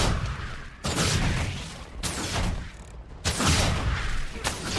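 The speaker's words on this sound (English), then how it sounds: "let's just see what my dual shot hits for normally" Dual Shot longbow attacks from a warrior in Guild Wars 2, heard as several sharp loud impacts over a dense roaring combat background.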